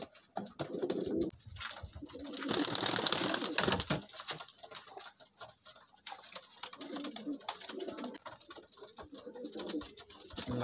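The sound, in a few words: pigeons cooing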